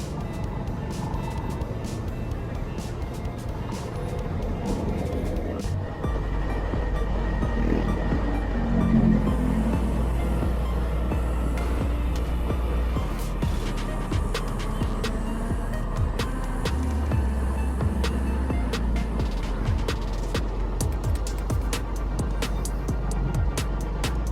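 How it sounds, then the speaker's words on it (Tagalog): Road traffic rumbles around a TVS XL moped on a Laguna loop ride, a steady low engine and vehicle drone with passing cars, trucks and occasional beeps and clatter, continuous and fairly close. "Medyo traffic."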